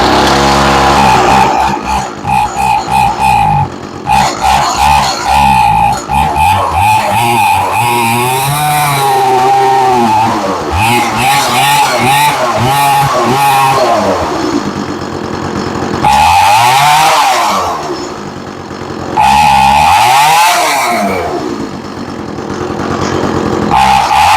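An Echo CS400 gas chainsaw needing a tune sputters through several starting attempts, then runs loud and close with repeated revving bursts, surging and dipping unevenly between throttle blips.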